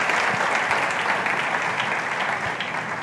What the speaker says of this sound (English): Please, a round of applause for them right there.